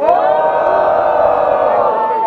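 A crowd at a student rap battle in Guarulhos cheers and shouts loudly, a dense, sustained roar of many voices close by.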